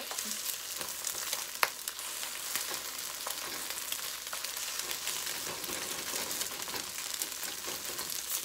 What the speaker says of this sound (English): We're going to let it fry a little bit. And we're just going to cook our egg